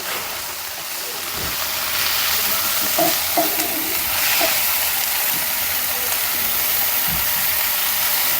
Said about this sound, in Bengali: এই যে ধনে পাতা ভাজাটা হয়ে আসছে প্রায়